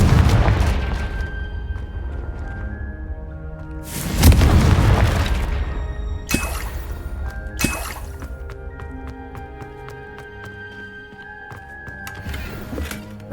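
In Hogwarts Legacy a Confringo spell explodes with a deep booming blast, followed by a second heavy burst and sharp impacts, all laid over ongoing game music and ambience.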